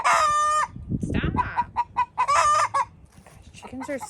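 A rooster crows loudly and close at the start on a homestead, followed by a run of short, rhythmic chicken clucks and another drawn-out crow, with only brief faint voice sounds in between.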